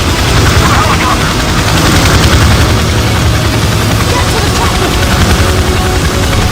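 Helicopter rotor roar with dense rapid gunfire in the video game Left 4 Dead 2, loud and continuous throughout with a thick wash of explosions and engine noise.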